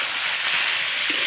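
Bitter gourd frying with onion in a hot pan, a steady close hiss and sizzle of oil throughout.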